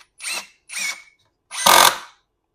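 Metabo 18V triple hammer 1/4-inch impact driver running in bolt mode: two short whirring spins, then a louder burst with rapid hammering before it stops, close up with no talk.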